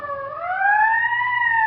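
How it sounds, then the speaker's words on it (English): An ambulance siren wails with a smooth rising-and-falling tone, clear and fairly loud, sweeping upward and holding steady with no talk over it. "That must be the ambulance, huh?"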